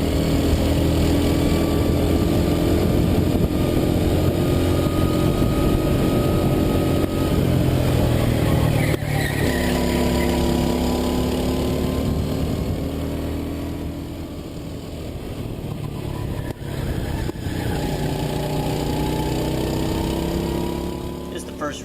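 Racing kart engines droning and revving at Pittsburgh International Race Complex, a loud continuous buzz with shifting pitch as karts pass, under a voice talking over it.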